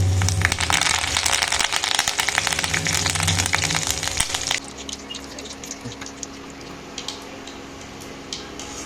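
Cauliflower pakoda pieces fry in hot oil with a dense, steady crackling sizzle that is loud at first, then drops to a quieter, sparser bubbling with a few scattered pops, close up and with no voice.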